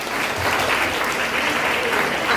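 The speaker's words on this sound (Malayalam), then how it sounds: "അപ്പൊ അതിലൂടെ വലിയൊരു കൈയടി." Audience at a school reopening ceremony clapping for a teacher, a dense, steady burst of applause lasting throughout.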